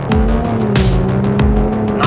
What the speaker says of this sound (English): the Velar has a pretty potent engine